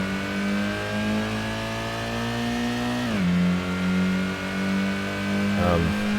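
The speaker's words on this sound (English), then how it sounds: "So, our final test here is a full lap trial of the high-speed ring. In this Miata." Engine of a Mazda Miata in the Gran Turismo racing game on the high-speed ring, a steady rising drone that drops sharply as the gear shifts, then climbs and dips again; continuous and prominent.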